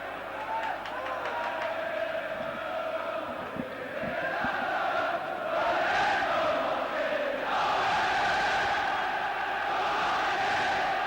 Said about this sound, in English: The home crowd getting behind their side.